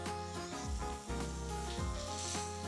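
Mushrooms cooking in a pan with their liquid boiling off, giving a soft, steady sizzle and light bubbling that stays fairly quiet and continuous, with faint stirring noises.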